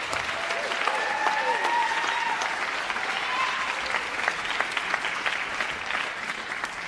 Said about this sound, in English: So what about a round of applause for our amazing, amazing students that performed all evening this evening?